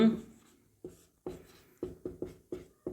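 Chalk or marker writing on a board during a class 10 maths lesson, a series of short scratchy strokes in irregular bursts, close and clear, with a teacher's voice speaking over them.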